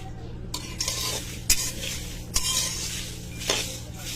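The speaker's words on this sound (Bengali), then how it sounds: "এভাবে 2-3 বার উল্টা পাল্টায় দেওয়ার পরে এটা থেকে একটা সুন্দর মচমচে শব্দ বের হচ্ছে" Dry masala spices roast in a pan with a steady crisp sizzle, punctuated by four sharp scrapes of a stirring utensil against the metal; close and fairly quiet, no talk.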